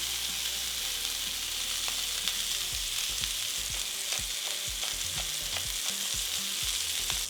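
A smashed burger patty sizzles hard in a hot pan with a loud, dense, continuous hiss and crackle. Faint low rumbles fade out early, and no one speaks.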